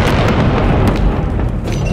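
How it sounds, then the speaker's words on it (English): An ancient firearm fired during the making of a stage show, heard as one continuous loud, close, deep boom filling the whole brief moment with rumbling noise. "first of all, an ancient firearm."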